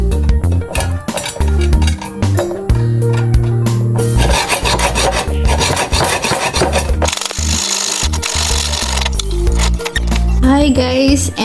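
A stripped screw on a vanity is sawn off by hand, giving close, rough rasping strokes in an uneven rhythm over a backdrop of music.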